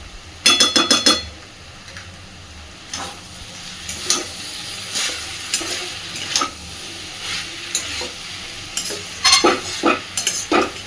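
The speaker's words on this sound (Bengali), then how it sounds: "খুব সুন্দর করে মিশিয়ে দেবো এবার সব কিছুকে।" Mashed green banana ghonto is stirred with ghee in a hot pan: sharp bursts of spatula scraping and clatter come in irregular clusters over a soft continuous sizzle, close and alone without voices.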